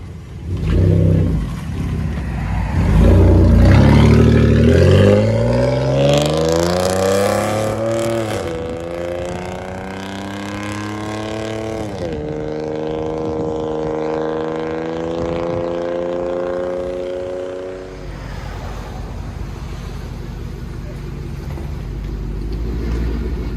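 A Ford truck engine, likely a 6.8L V10 in a 2002 Excursion, pulls out and accelerates hard. A loud, rising engine roar climbs through the gears with audible upshifts, then fades to a steady cruise.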